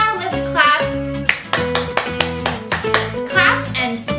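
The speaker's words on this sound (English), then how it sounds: "now let's clap" Hands clapping in a rhythmic children's learning song, crisp claps landing on the beat under a singing voice and musical accompaniment.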